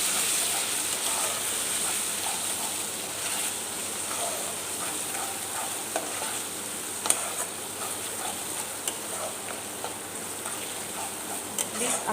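Ground cumin, coriander and chili masala frying in a pan for a prawn curry, a soft steady sizzle with scattered light ticks and occasional stirring clicks.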